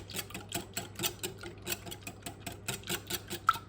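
Leftover Yorkshire pudding being whisked in a bowl, giving a quick, steady run of light rhythmic clicks and taps close up, with no talking.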